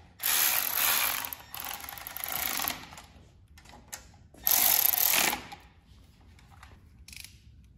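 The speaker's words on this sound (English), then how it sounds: "Snug them up, and then I'll get the torque wrench on them." A wrench ratchets on the cylinder head bolts of a Kohler 7000 Series engine during a head gasket repair, coming in several loud bursts of rapid clicking separated by short quiet gaps, close up with no talk.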